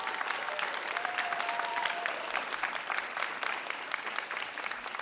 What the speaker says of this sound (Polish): proszę jeszcze raz o wielkie brawa